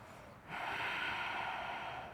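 Slow, steady breath during a restorative yoga pose, a soft airy exhale rising after a brief quiet moment and holding evenly, close and gentle with no talking.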